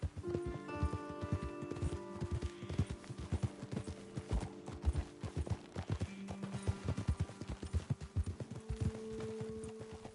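Horses' hooves clip-clop steadily over the ground in Red Dead Redemption 2, several animals walking together close by, with the occasional snort and faint rustling around them and no talk.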